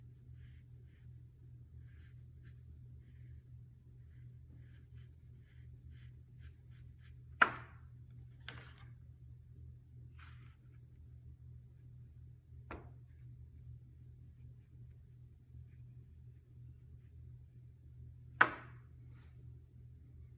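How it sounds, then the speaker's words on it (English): A few sharp, isolated pops of buckled paper break a quiet low hum, spaced several seconds apart, two of them noticeably louder. "You can hear the paper that's buckled a little bit popping."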